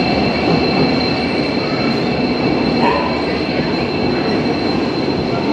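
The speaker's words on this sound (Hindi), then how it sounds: "तो गाइस ट्रेन आ गई है और जल्दी आ गई है टाइम से" A train arriving at a station platform in India gives a loud, steady rumble of wheels with a high metallic squeal and faint clatter, close by and with no talk over it.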